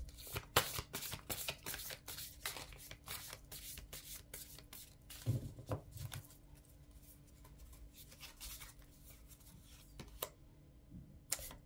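Cards of a sacred-forest oracle deck being shuffled by hand in a quiet room, a steady run of soft riffling flicks and taps close up, with a few louder slaps and no talk.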